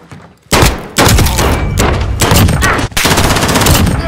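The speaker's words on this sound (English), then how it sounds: "Taking fire!" Rapid gunfire in Modern Warfare, the Kar98 among the weapons, loud bursts of close shots and heavy thuds repeating in quick succession with brief gaps between volleys.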